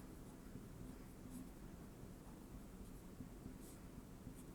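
Soft, faint scratching of a pen or marker writing out a slope formula during a math lesson, a continuous light rustle with no speech.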